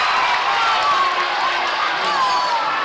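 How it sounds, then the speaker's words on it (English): High school varsity boys basketball crowd at a championship game cheering after a dunk, a steady loud roar of shouting and whooping that holds level throughout without letting up. "Nothing like a dunk to get the crowd going"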